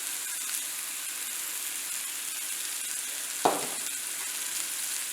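Oil poured over chili powder in a pan for an Aadi Amavasai festival meal, giving a steady soft frying sizzle throughout with one sharp brief clatter partway through.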